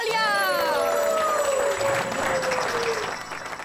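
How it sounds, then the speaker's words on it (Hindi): Audience applause at a competition on a Hindi TV comedy show, a steady dense clapping wash lasting several seconds with a bright descending tonal sweep laid over it, easing off slightly at the end. "खंडेलवाल, तालियां।"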